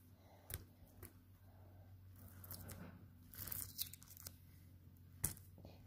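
Adhesive tape is pulled and torn while a homemade face mask is made, giving quiet close crinkles and several sharp ripping snaps at irregular intervals, with no talking.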